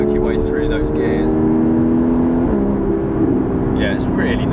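A Porsche 981 Cayman S engine pulls hard under full throttle, a loud, close, droning flat-six note climbing in pitch, dropping briefly at a gear change, then rising again on dry roads.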